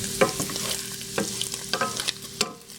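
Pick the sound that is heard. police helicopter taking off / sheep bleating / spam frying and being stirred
spam frying and being stirred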